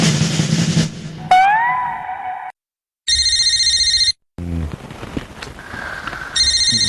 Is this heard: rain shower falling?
no